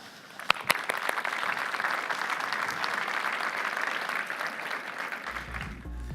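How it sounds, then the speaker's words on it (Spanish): Audience at the IAB Now 2017 conference applauding after a talk, a few sharp claps building into sustained, full applause, then a low hum and murmur rising as it tapers near the end. "Aplausos, muchachos."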